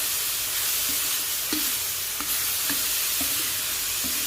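Bird meat stir-fried in a pan outdoors, a steady loud sizzle with spatula scrapes and clanks recurring every half second or so, no talk.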